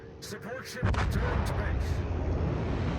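Secondary guns on a warship fire in a World of Warships-style naval operation, taking out a Fubuki destroyer: a loud, rolling barrage of booming shots erupting after a second of quieter battle noise, with someone narrating over it.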